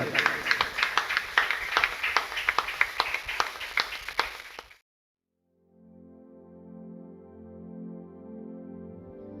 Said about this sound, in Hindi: आइए एक जोरदार ताली केवल प्रभु यीशु मसीह के लिए, आपका उत्तम ताली इस खुदा के लिए बजाएं।